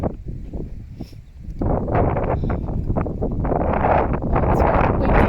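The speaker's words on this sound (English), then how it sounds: "It's very windy here." Strong wind gusting at Blue Lake in Plenty Gorge, buffeting the microphone in heavy roaring rushes that ease briefly, then build and stay loud and constant.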